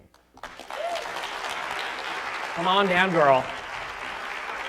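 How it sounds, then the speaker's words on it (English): Audience at a health and nutrition talk applauds as speaker Andrea Beaman is welcomed, a steady room-filling clap starting abruptly after a moment of quiet, with a voice calling out over it. "a warm round of applause for Andrea Beaman"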